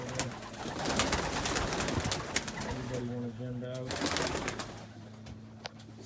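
Homing pigeons coo steadily inside a loft, low rolling calls repeating close by and layered over one another.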